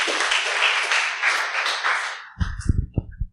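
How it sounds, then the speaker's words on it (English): An audience at a tech talk in Reston applauds for about two seconds in a dense, steady round of clapping that then fades as a voice starts speaking. "Please give a round of applause once again."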